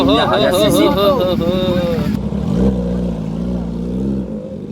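A Kawasaki superbike engine revs in rising and falling sweeps, then settles into a steady low idle rumble, close and loud, with people talking around it.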